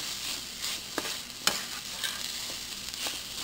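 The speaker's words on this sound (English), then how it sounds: "So I'm just going to go ahead and mix this all together." Seasoned ground meat for chili is stirred in a pot with a steady scraping mix and soft sizzle underneath, punctuated by a few sharp clicks of the spoon against the pan, moderately close and without talk.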